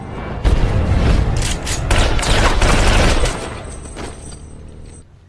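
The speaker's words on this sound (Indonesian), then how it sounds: "ditembak mati saat itu juga." Film gunfire as people are shot dead: dense bursts of rapid shots and booming blasts for about three seconds, then a fading rumble and quieter tail.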